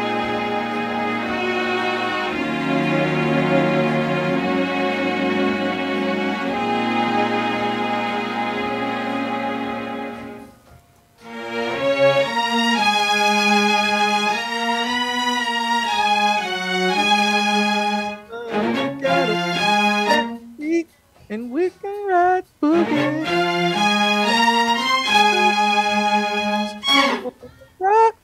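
Late-1970s disco string arrangement sweeps through lush sustained chords, then gives way to rhythmic, gliding string and synth lines, loud and full with no talk over it.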